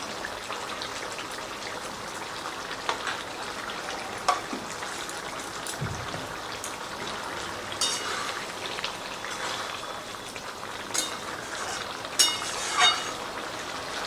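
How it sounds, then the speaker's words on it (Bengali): Green jackfruit curry with garam masala and ghee simmers and bubbles in a pan, a steady close crackling fizz with scattered small pops running throughout, no talk. "তো বন্ধুরা আরও মিনিট 2 মতো এটাকে ফুটিয়ে নিয়েছি"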